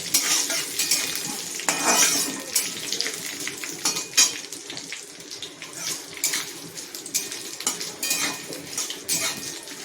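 Cumin seeds fry in a pan for a moong dal with bottle gourd, a continuous sizzle near the mic punctuated by repeated sharp clinks and scrapes of a spoon stirring against metal.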